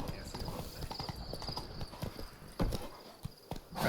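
Roach the horse gallops in The Witcher 3, rapid clip-clop hoofbeats close and steady, with a faint voice beneath the stride.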